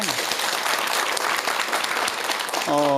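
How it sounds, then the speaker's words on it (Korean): Audience at a Buddhist monk's lecture gives a round of steady, fairly close applause. A voice begins to speak just as the clapping ends. "박수 한번 주세요."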